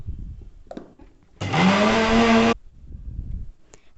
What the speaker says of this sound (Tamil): மிக்சியில் சீனியோட இந்த ஏலக்காவையும் சேர்த்து பொடி பண்ண போகிறோம்.